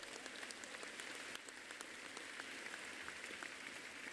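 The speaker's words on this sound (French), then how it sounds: "Applaudissez pour le Seigneur." Faint, distant applause from a church congregation at a French-language worship service, a steady wash of clapping with a few sharper claps standing out, no speech over it.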